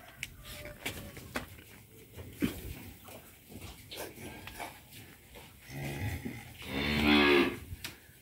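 A cow on a cattle farm in Ben Tre gives one low, drawn-out moo near the end, amid outdoor clatter and background noise.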